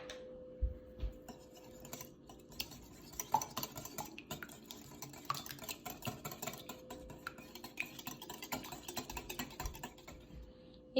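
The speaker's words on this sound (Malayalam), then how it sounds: "അതിൽ നമുക്ക് ഉപ്പും കുരുമുളക് പൊടിയും ചേർത്തിട്ട് ബീറ്റ് ചെയ്യാം" Eggs seasoned with salt and pepper are beaten by hand in a bowl, a quick, steady series of light clicking and tapping strokes, close and quiet, with no talk.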